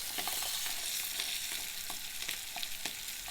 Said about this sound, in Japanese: 鴨の表面を焼いていきたいと思います。